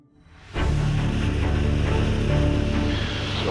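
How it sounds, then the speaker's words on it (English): Strong high-wind gusts buffet a bush plane at takeoff in Alaska, a sudden loud rushing roar that sets in after a quiet start and holds steady with engine drone beneath. "I got some gusts coming here."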